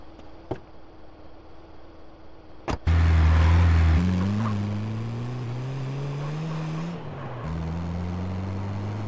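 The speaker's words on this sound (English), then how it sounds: "CJ, get up front and drive us out of here." In GTA San Andreas, a car engine suddenly fires up after a sharp bang and drives off, holding a loud, steady drone with a slowly rising pitch and a brief dip near the end.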